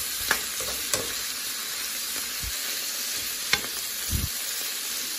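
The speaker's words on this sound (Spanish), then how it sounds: "vamos a agregar el tomate y el cilantro. Vamos a revolver muy bien." Shrimp, spinach, tomato and cilantro are stirred in a frying pan, a soft continuous sizzle broken by a few light scrapes and taps of the utensil against the pan.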